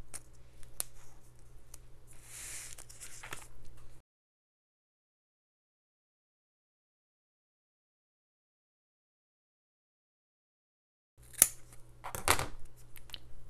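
Scissors trimming adhesive paper in a craft makeover, with a few seconds of close snipping and crinkling at the start, a long silent gap, then a brief burst of cutting and paper handling at the end.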